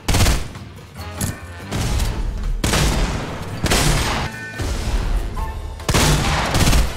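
Bursts of suppressed assault rifle fire from Fortnite come in several loud, rapid volleys separated by short gaps, with a voice briefly heard between shots.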